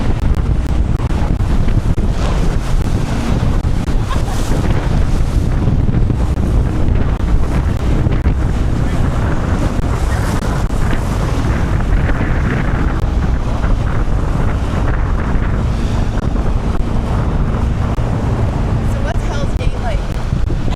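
Whitewater rapids on the Thompson River in British Columbia roar continuously around a raft, loud and close, with heavy wind buffeting and people talking over the churn.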